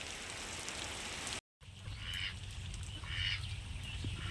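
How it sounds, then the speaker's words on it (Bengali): Steady rain pours down with a dense hiss, briefly cutting out, then continuing with a few faint calls in the background. "আর এই যে ঝমঝম বৃষ্টিটা আপনাদের সঙ্গে একটু শেয়ার করে নিলাম"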